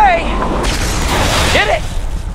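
Bombs go off in Marvel's Spider-Man Remastered as a loud, sustained booming burst with crackling debris, mixed with game effects.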